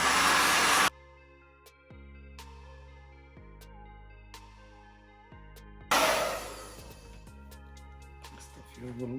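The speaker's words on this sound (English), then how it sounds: "I want to give it a nice good blow dry, just like the other one." A hair dryer blows on a wig in two short, loud rushes of air, separated by quieter stretches where tonal music plays.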